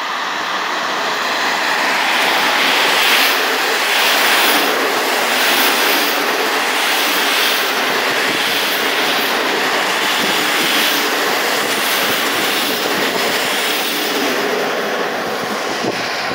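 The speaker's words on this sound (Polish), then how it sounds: "Kolejny pociąg." A long train rolls past with a loud, sustained roar and rhythmic clatter of wheels over rail joints, steady throughout.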